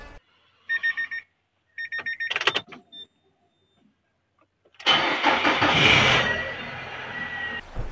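A motorcycle engine is revved briefly during an engine oil check: a few short mechanical bursts and clicks, then a loud, sustained roar of the engine close by. No one speaks.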